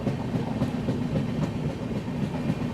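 The Northeast Express passenger train rolls along the rails between Prayagraj and Patna, a steady low rumble with faint repeating clickety-clack heard from inside, without talk.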